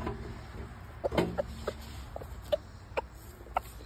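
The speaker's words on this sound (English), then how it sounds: "Happy rooster." A rooster in a homestead chicken coop gives a series of faint, short clucks at irregular intervals against a quiet background.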